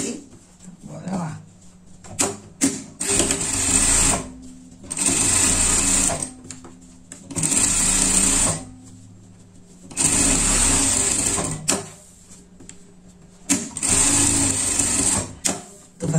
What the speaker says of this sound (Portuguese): Vai passar uma costura em tudo, só deixar aqui pra gente virar a nossa peça